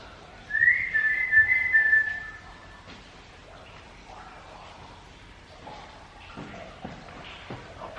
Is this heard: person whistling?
yes